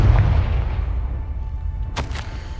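Confringo blasting spell in the Hogwarts Legacy video game: a deep booming blast at the start fades into a low rumble, then a sharp second crack-like burst rings out near the end.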